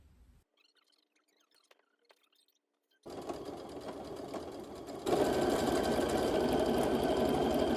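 A sewing machine stitching stretchy fabric for an outfit, with front and back panels, sleeves and collar, runs in a steady close whir after a quiet start, picking up to a louder, faster continuous buzz partway through.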